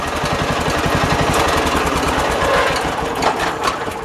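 A Craftsman lawn mower engine runs continuously at a high idle, a loud, close, steady sputtering drone with no one talking over it.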